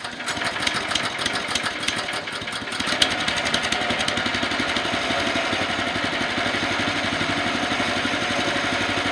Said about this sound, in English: I'm just going to get the RPMs going up so the flywheel engages the wheel